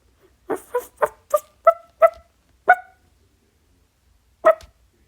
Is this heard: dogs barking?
yes